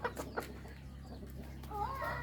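Free-range backyard chickens, including fighting cocks kept tied up, cluck in short bursts at close range over a steady low background hum.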